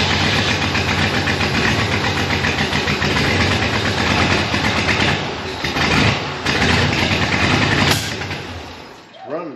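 A C2 Corvette engine, restarted after sitting 10 years, runs rough and misfires, a loud close uneven idle that dips and surges before cutting off near the end.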